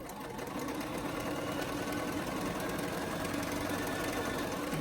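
Sewing machine chain piecing pleated face masks assembly-line style, running over an earlier seam: a steady, continuous motor whir with a fast stitching rhythm, close and fairly loud throughout.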